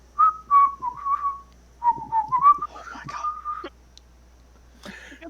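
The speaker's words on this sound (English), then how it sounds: "I'll whistle like you need me to" A person whistles a short wandering tune in clear, close phrases with brief pauses, alone in a quiet room.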